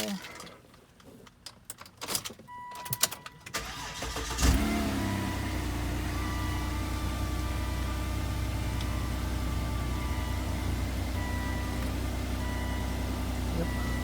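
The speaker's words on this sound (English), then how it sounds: "Turn on the car." A Volvo XC90 with 245,000 miles turns over and settles into a steady, fairly loud idle after a few seconds of quiet clicks and handling noises, just after a transmission fluid change.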